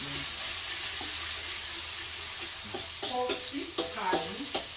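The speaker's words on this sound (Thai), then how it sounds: "ลงมือผัด" Freshly picked vegetables stir-fried in a pan, a steady sizzle giving way to louder scraping and clattering stirring strokes near the end, close and unaccompanied by talk.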